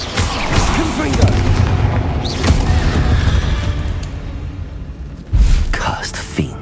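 Confringo fire spell blasts in Hogwarts Legacy, cast during a catacomb fight: repeated booming impacts and crackling bursts stack up loudly through dense battle noise, with a heavier thump near the end and voices calling out over the action.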